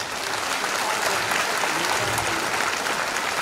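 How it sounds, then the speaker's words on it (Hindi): A congregation applauds during a Catholic priestly ordination, a dense, loud and steady wash of clapping from many hands that runs unbroken throughout. "चलिए जोर से ताली बजाते हैं"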